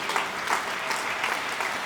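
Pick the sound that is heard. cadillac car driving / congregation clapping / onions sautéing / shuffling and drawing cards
congregation clapping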